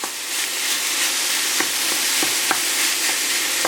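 Ground beef sizzling steadily in a hot pan for a pizza-bread filling, with a dense continuous fry hiss broken by irregular scraping clicks of a utensil breaking up and stirring the meat.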